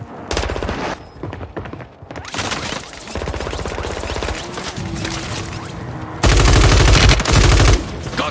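Heavy gunfire in the Warzone video game, loud close bursts of automatic fire and single shots rattling in quick succession, with a dense, sustained volley near the end.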